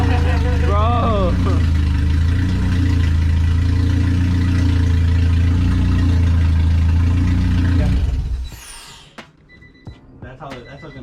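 A car engine idles with its exhaust cutout open, a loud deep rumbling drone with a throaty, steady burble that cuts off abruptly near the end, leaving faint scattered noises.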